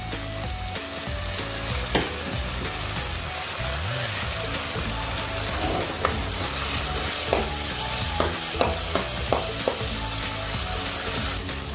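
Okra sizzles in a pan as a dissolving chicken cube is stirred in, a constant frying hiss broken by a string of sharp utensil clacks against the pan, louder and more frequent toward the end.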